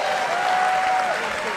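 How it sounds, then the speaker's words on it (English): A WWE wrestling crowd applauding Rey Mysterio during his match against Alberto El Patron, a dense wash of clapping and cheering with a commentator talking over it. "This crowd loving these greatest hits of Rey Mysterio"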